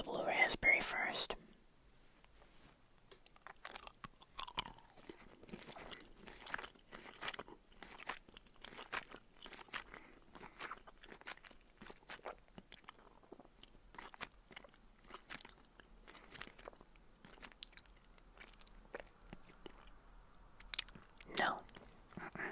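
Blue raspberry Joyride candy being chewed close to the mic, a long run of irregular crunchy bites and wet chewing clicks, preceded by a brief louder burst of sound at the start.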